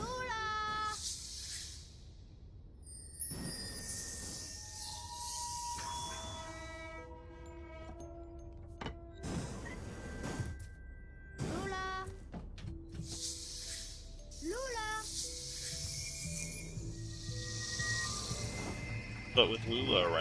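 In the video game Papo & Yo, the character Lula speaks in short, squeaky, pitch-bending voice sounds, one after another over soft game music and ambience, close and fairly quiet.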